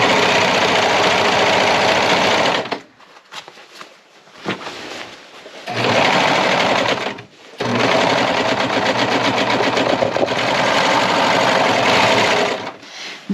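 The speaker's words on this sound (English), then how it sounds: "I'm going to go to my serger and I'm going to serge this seam" A serger sewing machine finishing a dress seam runs in loud, fast-stitching bursts, pausing briefly twice before resuming its steady mechanical whir.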